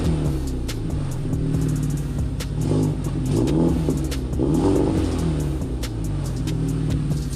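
A Genesis car with a resonator-delete test pipe exhaust revving: deep rumbling engine swells rising and falling several times, loud and nearby, with a raspy exhaust tone and no talking.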